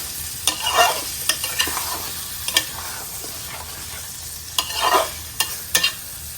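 Small mola fish, 600 grams, fry and get stirred in a pan over a stove, with a continuous soft sizzle broken by several sharp crackling bursts and spatters, close and alone without voices.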